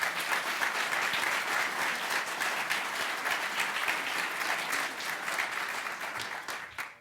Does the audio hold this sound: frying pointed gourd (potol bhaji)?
no